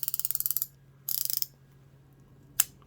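Champion Plug-Master semi-flex ratchet, freshly cleaned and lubed, gives two quick runs of crisp, evenly spaced pawl clicks up close, then a single sharp click after a pause, alone in a quiet room.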